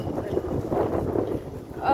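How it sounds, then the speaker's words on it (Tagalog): Gusty wind in Doha, Qatar buffets the microphone in a low, rough rumble that rises and falls over a couple of seconds. "Windy po ang weather dito ngayon."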